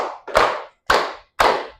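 A classroom group claps in unison to a teacher's count, giving four crisp, closely spaced claps with a short decay and no talking.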